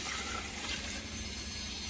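Water is poured into a pot of sautéed chicken for dum biryani, a continuous broadband splashing rush that stays steady and fairly soft for about two seconds with no voices.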